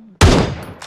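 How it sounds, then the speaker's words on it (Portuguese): Gunfire in the video game PUBG Mobile, set on the Miramar map: one loud, close burst of shots that cuts in sharply, then trails off into a fading echo with a fainter crack near the end. "Nossa, tem muito tiro aqui fora aqui"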